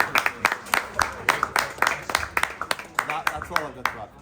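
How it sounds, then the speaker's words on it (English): A small audience gives a round of applause at the close of a talk: a run of sharp, fairly regular hand claps lasting several seconds, with voices mixed in underneath. "So, round of applause."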